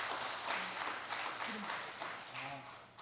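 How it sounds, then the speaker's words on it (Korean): A church congregation at a Sunday afternoon service claps together in sustained, fairly distant applause, with a voice faintly audible underneath. "우리 힘있게 우리 격려의 박수 한번 해주시면 고맙겠습니다"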